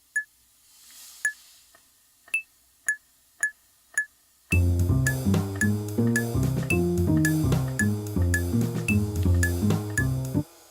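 Sparse clicking ticks at first, then a full drum groove with a bass line playing chord-note quarter-note triplets, six notes per measure, in a rolling pattern, steady and close.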